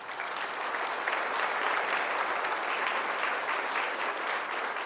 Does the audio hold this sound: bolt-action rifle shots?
no